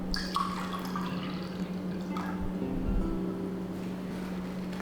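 Water is poured into a soy sauce marinade for spicy Korean marinated eggs, a steady soft splashing trickle over a constant low hum.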